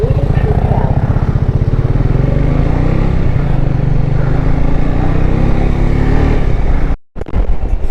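A motorcycle with all its shock absorber oil leaked out runs on a mountain road in the Zanskar valley, Ladakh, on a ride from Delhi. The engine throbs close and loud with steady rapid pulses, then cuts out in a sudden brief dropout before returning.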